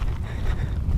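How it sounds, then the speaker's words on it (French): Brief gusty wind buffeting the microphone, a low rumbling roar that rises and falls without pause. "le vent s'est un peu levé"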